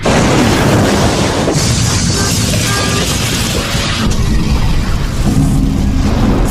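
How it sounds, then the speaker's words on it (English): Explosions tearing apart the rear of an aircraft carrier, a loud, dense, continuous roar of blasts and rumbling that fills the whole stretch without pause. "Four more blasts tear the rear of the ship apart."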